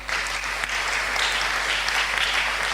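A church congregation claps in sustained, dense applause, a loud steady wash of many hands with a low hum underneath.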